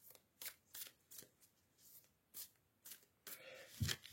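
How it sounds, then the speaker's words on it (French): Tarot cards being shuffled by hand make a string of quick, soft papery riffles, about ten short bursts in uneven rhythm, close and quiet, with no voices. "je vais bien mélanger les cartes"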